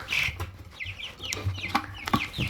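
Several chickens cluck near and clear from a backyard chicken coop, short repeated calls overlapping one another against a low steady background hum.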